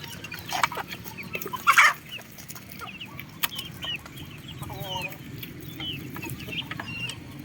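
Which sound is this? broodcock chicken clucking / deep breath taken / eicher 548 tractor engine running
broodcock chicken clucking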